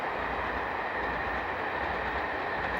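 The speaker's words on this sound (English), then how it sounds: "Wasn't the noise of those trains going across the railway pool a bit off-putting?" A train rumbles steadily across a railway bridge over a river pool, a continuous broad roar that holds at even loudness without a break.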